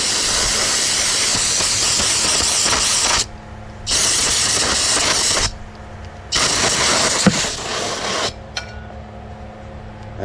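Aerosol cleaner sprays onto an old oil pan magnet in three long, loud hissing bursts separated by short gaps, followed by a weaker sputtering spray as the can runs low.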